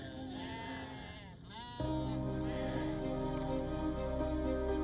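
Sheep bleating at a livestock-rearing site in a Rohingya refugee settlement in Bangladesh: a wavering bleat, then a louder, sustained cry from a nearby animal, over a steady, noisy outdoor background.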